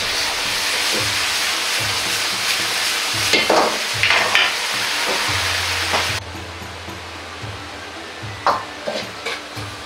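Mapo sauce thickened with starch, with sesame oil added, being stirred in a pan: a bright hiss of sizzling with soft bubbling and intermittent scraping strokes, the sizzle dropping partway through as the stirring continues.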